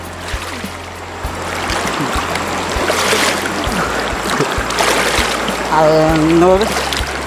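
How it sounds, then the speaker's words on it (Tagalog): Steady rushing water of a strong river current with a broad, constant roar throughout, mixed with scattered splashes and a few voices nearby. "malakas yung agos ng tubig"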